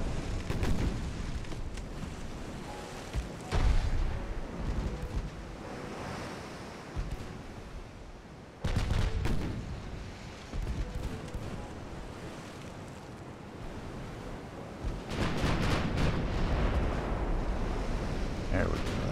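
Heavy naval guns from a dreadnought-era warship in Ultimate Admiral: Dreadnoughts, booming in a full broadside, the salvo sounding as two loud roaring bursts over a steady bed of sea and wind noise.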